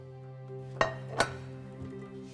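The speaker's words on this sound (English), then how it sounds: "let's get everything into the pot" Pasta and chopped ingredients tipped into a cooking pot: two sharp clattering knocks close together, then a softer third, over a steady low hum, with no talking.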